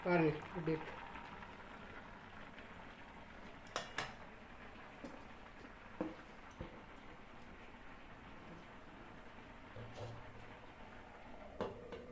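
A pot of ridge gourd milk kootu simmering on the stove gives a soft, steady bubbling hiss, broken by a few faint clicks and knocks, quiet and close.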